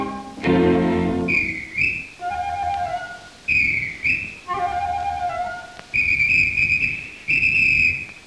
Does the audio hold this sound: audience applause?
no